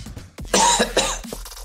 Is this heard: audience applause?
no